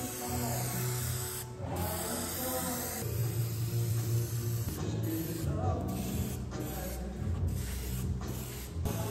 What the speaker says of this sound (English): had to resort to using spray cans